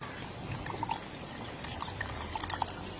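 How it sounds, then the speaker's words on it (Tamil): Water poured steadily onto charcoal, a continuous soft splashing trickle with a few faint drips, quiet and close. "தண்ணி ஊத்திக்கலாம்."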